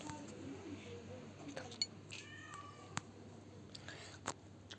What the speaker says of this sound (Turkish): Bu anne kedi gelmiş.